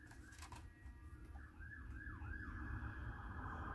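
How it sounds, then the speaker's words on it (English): Emergency vehicle sirens on a highway, heard faint and distant as several rising and falling wails over a low background rumble. "there are emergency vehicles out on the highway"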